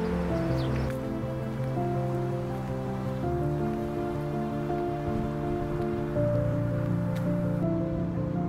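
Raindrops pattering on a New York City street, a steady close patter over a sustained tonal hum that stays even from start to end, with no talking.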